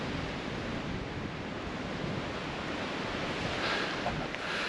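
Wind blows steadily across a mountain at Dolly Sods in a broad, rushing hiss, fairly soft and constant, with occasional gusts buffeting the microphone.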